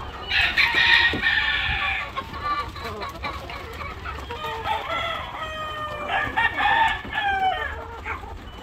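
Chickens on a farm cluck and call inside a coop, several birds overlapping in a loud, close, continuous chorus with rising and falling squawks and no voices.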